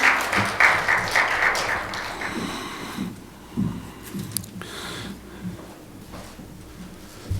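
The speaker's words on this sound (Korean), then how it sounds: "우리 성가대원들 위해서도 한번 격려로 박수해 주시고" A church congregation at a Sunday service briefly applauds the choir in encouragement, clapping strongest at first and then thinning out into scattered shuffling and rustling sounds in the room.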